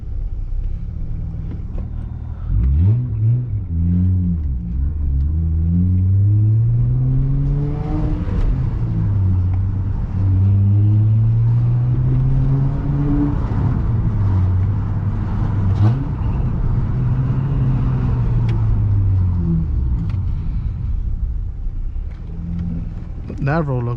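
A 2004-2008 Acura TL engine revs hard through downshifts, its pitch repeatedly swooping up and falling back in loud, close, sustained waves with brief dips between.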